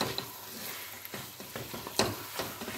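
Ground almonds and cashews being stirred into bread halwa in a pan, with soft scraping strokes and a few sharper taps against the metal, quiet and close.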